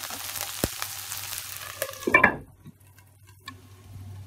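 Soybean and capsicum sabzi frying in a pan, with a steady sizzle and some stirring scrapes, then a clatter of the lid going on. The pan is left covered and quieter afterward.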